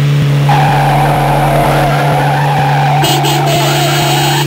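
Stop-motion toy car driving off in reverse, with a steady loud engine-like drone and skidding tire squeal sound effect throughout, rising in intensity toward the end.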